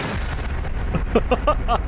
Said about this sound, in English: No, it's cannon.